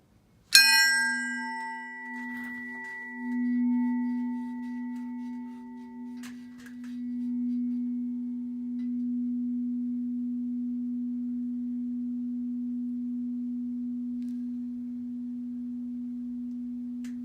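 A struck tuning fork rings out with a sharp metallic strike, then a pure, steady tone that hums on for over fifteen seconds, its bright overtones fading quickly while the low note lingers. No one speaks.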